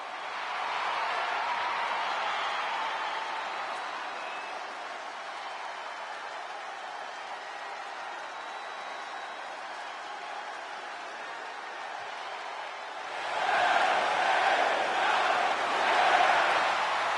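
Crowd roaring for wrestler LA Knight's entrance in WWE 2K25 Friday Night SmackDown, a steady broad wash of cheering that swells louder near the end, with no talk over it.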